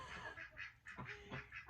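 A drake quacks several times in quick, raspy bursts, close but quiet, with short pauses between calls.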